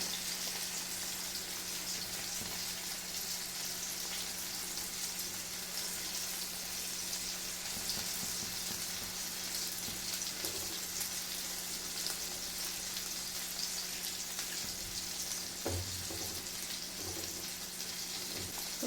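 Fish frying in a pan for a Kerala-style fish curry gives a steady, dense sizzle that holds at an even level throughout, with no one speaking.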